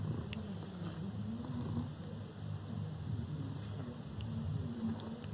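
Pet cat purring up close, a soft steady rhythmic rumble with faint clicks and rustles throughout, no talking.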